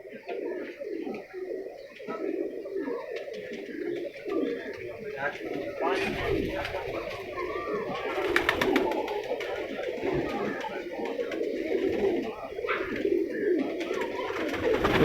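Loha breed pigeons coo repeatedly over a dense, steady background hum, with muffled voices mixed in.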